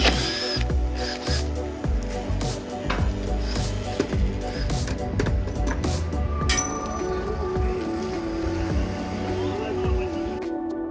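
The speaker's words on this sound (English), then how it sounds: "Before priming, Kai drills out all the through hulls using a diamond drill." A diamond drill grinds and whines with shifting pitch, drilling out the through-hull openings of a Lagoon 450 catamaran. Clanks and ratcheting mechanical noises join it in a busy workshop setting, with no one speaking.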